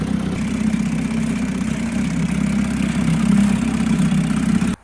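A 75-year-old vintage Mercury Super Five outboard motor idles with a steady, low, even burble, close and fairly loud throughout, then cuts off abruptly at the very end. No one speaks.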